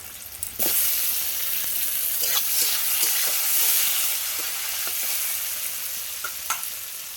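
Chopped tomatoes frying with onions in hot oil, a steady loud sizzle broken by several sharp clicks and scrapes of stirring.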